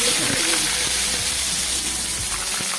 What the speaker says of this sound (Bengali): কিছুটা সর্ষের তেল দিয়ে দিলাম তেলটা গরম হয়ে গেছে এবার এর মধ্যে আমি দিয়ে দেবো কিছুটা বেগুন